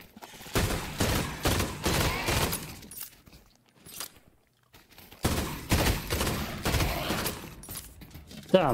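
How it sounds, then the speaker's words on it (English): Gunfire in the video game The Cycle Frontier, bursts of rapid cracking shots in two stretches separated by a quiet pause, fairly faint and distant-sounding, with no talk. "And there are shots in the distance."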